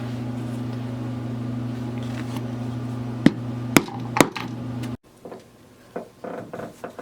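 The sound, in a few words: hammering a hole punch into leather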